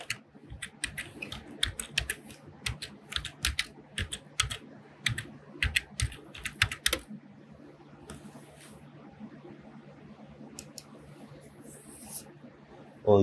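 Typing on a computer keyboard, rapid irregular bursts of close, crisp key clicks for several seconds, then sparse taps and quiet room noise.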